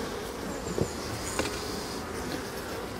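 Honeybees buzz in a dense, continuous drone at the top of an open beehive during a frame change, close and steady, with a couple of faint knocks in the background.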